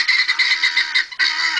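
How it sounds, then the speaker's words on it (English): Chickens and guinea fowl in a homestead coop give loud, harsh, repeated calls in a close, rapid chattering chorus, with a short break before the noise resumes. "we house our chickens with our guineas"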